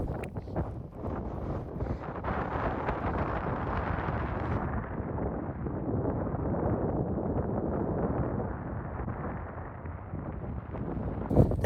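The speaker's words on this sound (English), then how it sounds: "It's quite windy up here." Strong wind buffets the microphone on the exposed summit of Red Pike, a loud, continuous roar and rumble with gusty swells that holds steady for the whole stretch.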